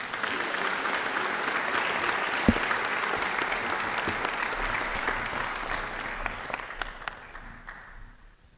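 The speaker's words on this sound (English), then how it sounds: "Can we please make a big round of applause for Jake Seekander?" Audience at a university honors convocation applauding an award recipient: a steady, dense wash of clapping from a large crowd in a hall, sustained for several seconds before thinning and fading out.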